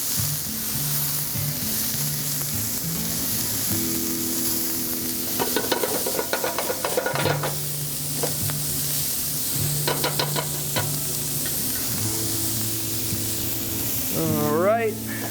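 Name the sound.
garlic and mirepoix sizzling in a pan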